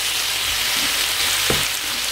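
Sauce sizzling loudly in a hot pan as it is stirred, a dense, constant hiss with a low scrape or knock near the end, close up and without speech.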